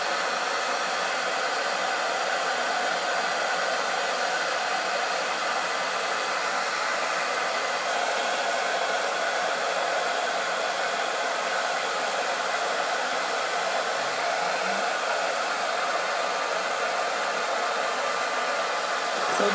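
A hair dryer on high heat dries brushed coils with a steady, loud, continuous blowing roar and no breaks.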